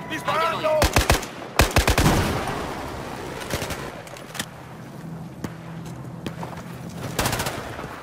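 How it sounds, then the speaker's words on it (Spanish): Gunfire in the video game Battlefield 4, with loud, close bursts of automatic fire early on, then scattered single shots and a longer burst near the end over a rumbling battlefield background. "¡Disparando!"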